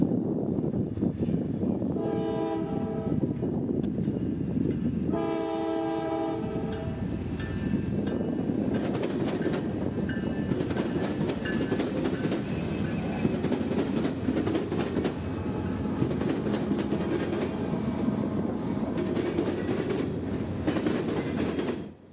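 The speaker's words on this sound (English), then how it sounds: "Showing up at the Diamond only minutes after our arrival would be NS Train 152, daily northbound freight" A Norfolk Southern northbound freight train rolls past the Valdosta Diamond, sounding two loud horn blasts, then a long steady rumble and clatter of wagons over the crossing, close and continuous.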